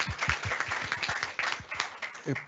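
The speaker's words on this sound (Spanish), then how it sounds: "Un aplauso también para Valesca." Brief audience applause during a panel on gender equity in Chile: a short burst of dense, fairly close clapping.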